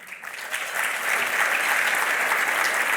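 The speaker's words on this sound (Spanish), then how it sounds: "Les voy a pedir un fuerte aplauso para recibir al presidente de la Bolsa de Comercio de Córdoba" Applause from a dinner audience at a year-end gala of the Córdoba Stock Exchange, swelling into a loud, steady wash of many clapping hands and holding strong throughout.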